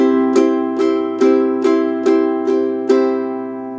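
Ukulele strummed in steady eighth-note subdivisions on the same chord for a song, seven evenly spaced bright strokes ringing close and alone.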